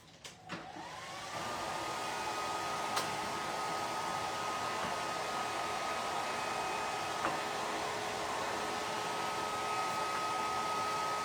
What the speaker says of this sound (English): let's use the hairdryer to get these glue strings off